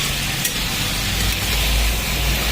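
Chicken curry with ginger, garlic, green chilli and tomato sautéing in a pan, a loud steady close sizzle with faint stirring, no talking.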